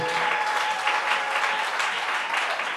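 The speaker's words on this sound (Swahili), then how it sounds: "Wapigie makofi tafadhali watu hawa" Sustained applause from a church seminar congregation honoring the praise team, dense steady clapping filling the whole stretch at close range, with no talk over it.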